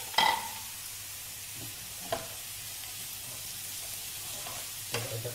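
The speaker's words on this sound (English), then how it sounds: "give it a bit of a stir, and that's just a lovely colour. And while that's been frying" Onions and chopped peppers fry quietly in a pan for a Spanish fish stew, giving a soft continuous sizzle broken by a few brief stirring scrapes, with no talking.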